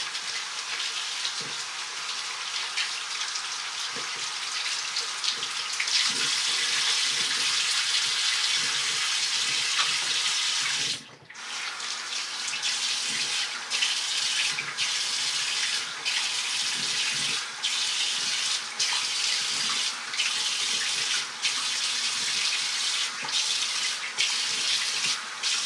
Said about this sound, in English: Okay, so I'm going to rinse my brush.